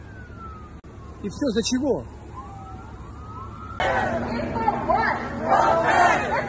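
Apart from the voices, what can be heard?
police car sirens at a protest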